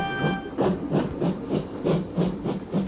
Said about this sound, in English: The train was soon coasting along the line.